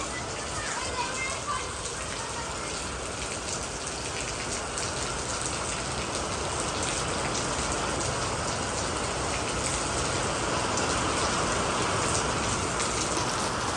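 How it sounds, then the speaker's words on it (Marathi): Heavy rain pours down steadily beside a kitchen, a dense, loud hiss and patter of drops that never lets up for the whole stretch. "कसा पाऊस आहे बघा"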